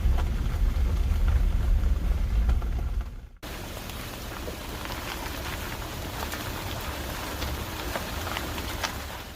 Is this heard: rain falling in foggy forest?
yes